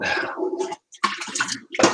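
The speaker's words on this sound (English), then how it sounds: "Let's run on some hot water in here." Hot water runs from a kitchen tap into a sink, a steady broadband rush that stops briefly near the middle and then resumes with gurgling and clatter.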